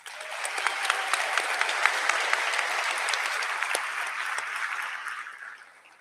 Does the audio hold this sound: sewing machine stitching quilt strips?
no